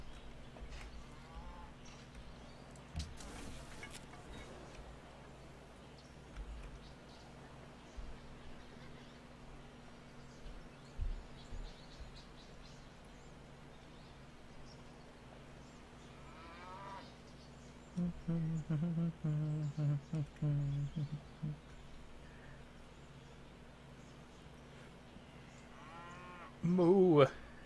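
Cattle moo in the strategy game Civilization 5, a few low, drawn-out calls rising out of quiet game ambience late on, the last one near the end, separated by long stretches of near silence.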